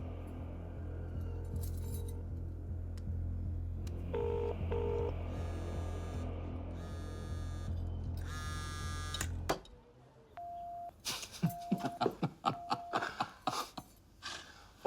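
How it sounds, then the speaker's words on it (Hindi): A telephone being dialed in a Hindi action film: short electronic keypad tones beep in small groups over a low hum, then a quicker run of beeps and clicks after a brief drop in background noise. "चल फोन लगा उसे। फोन लगा,"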